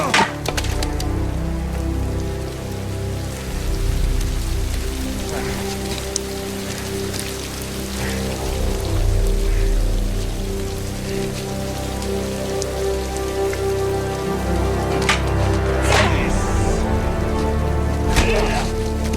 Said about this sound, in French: je pense à la scène du combat sur la pluie